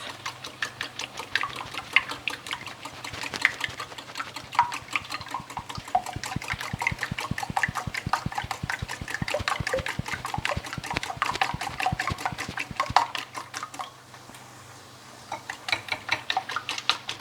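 Eggs are whisked with salt and milk in a bowl, a steady fast rhythmic clicking and sloshing of the whisk that carries on for a long stretch before slowing near the end.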